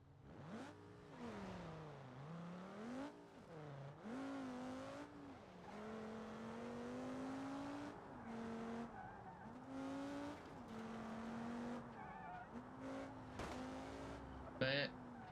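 A car driving in BeamNG Drive, its engine droning and rising and falling through gear changes with a brief sharp tire squeal near the end, someone talking quietly over it.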